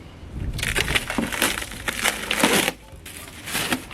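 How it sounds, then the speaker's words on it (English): New car parts for an Astra facelift are unwrapped from cling-film packaging, giving loud, close crinkling and crackling bursts that come in rapid waves with a brief pause. "I'm going to go ahead and unwrap these things first"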